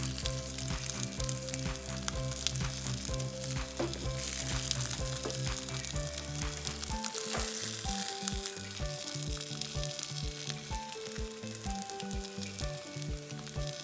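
Plant-based beetroot burger patties sizzle and fry in a pan, a constant crackling hiss layered over a steady musical backing.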